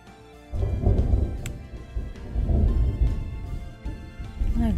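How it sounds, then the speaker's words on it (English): Sudden thunder in the Ace Attorney: Phoenix Wright video game, deep rumbling rolls that swell and fade in several waves, with a brief sharp crack of lightning partway through. "There was lightning so suddenly."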